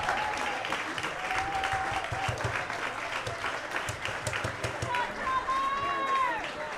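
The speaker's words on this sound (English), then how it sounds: "And here's the applause." Crowd applause at an American Legion baseball state tournament game in Wyoming, steady and moderately distant, with a play-by-play voice talking over it and faint whistles rising through.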